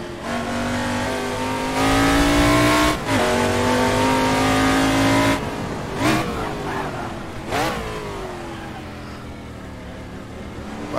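A race car engine in Assetto Corsa, an AC Legends prototype mod, revs hard and climbs through gears, loud and close, with brief shifts and a dip as it exits a corner before pulling again.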